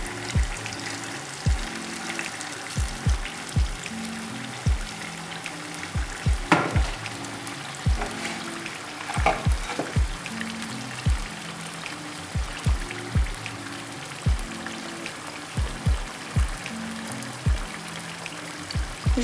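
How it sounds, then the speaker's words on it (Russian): Steady sizzling and crackling of chicken breast frying in hot oil, with periodic stirring clatters from a utensil against the pan, close and fairly loud. "Ждем, пока курочка обжарится до румяной корочки."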